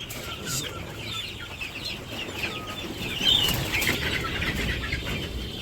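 Village chickens clucking near and busy, with bursts of wings flapping and other small birds around, steady farmyard bustle without clear talk.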